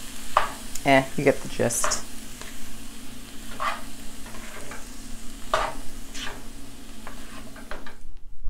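A purple cabbage and squash scramble being stirred in a pan with the heat just switched off: scraping, shuffling stirs and a soft lingering sizzle, with a few words spoken near the start.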